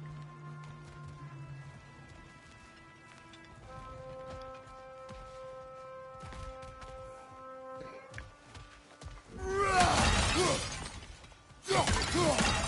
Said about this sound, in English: I just smashed the vases to get the money